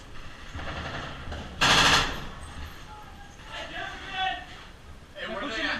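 A machine gun squad fires a loud, sharp burst of automatic fire at close range, with fainter bursts later, while voices talk and shout over the shooting.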